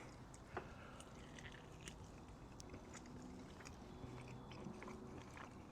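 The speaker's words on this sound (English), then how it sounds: "Let's take a bite." Soft, quiet biting and chewing of tender smoked beef short rib, heard close up with faint wet squishes over a low background hush.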